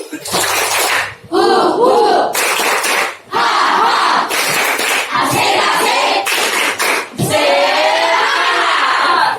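A standing class performs a rhythmic group clapping chant called 'tepuk tangan semangat baru', with loud bursts of patterned claps and shouted voices alternating with short pauses.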